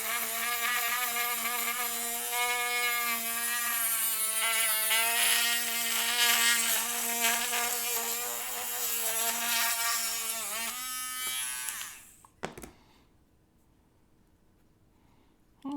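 Steady, continuous rasping buzz of a scale model P-40 C Tomahawk part rubbed lightly against sandpaper, close and even for about twelve seconds before stopping abruptly, followed by a brief clatter and quiet.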